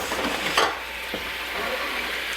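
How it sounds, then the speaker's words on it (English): A pot of oil and water bubbles and sizzles steadily at close range while cooking Persian rice, with a brief clink of a utensil, no voices. "as you see, it's boiling, the oil and the water"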